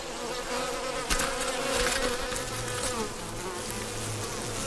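Bees buzz densely at a hive entrance, a steady near drone of many insects with a brief louder burst partway through, no voices.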